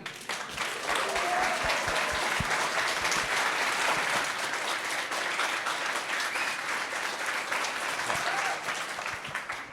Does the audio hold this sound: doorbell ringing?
no